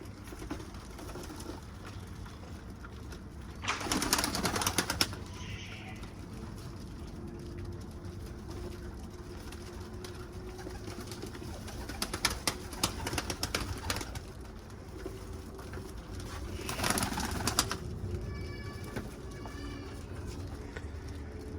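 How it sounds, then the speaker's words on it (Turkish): Pigeons bathing together in water, with three separate bursts of fluttering, splashing wingbeats over a faint, steady background hum. "Evet bunlar yine toplu halde banyo yapmaya başladılar."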